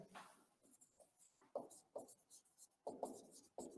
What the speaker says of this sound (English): So let me write here.